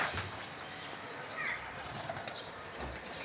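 Pigeons in a rooftop loft, with soft cooing and bursts of wing flapping against a busy, steady background, plus occasional low thumps.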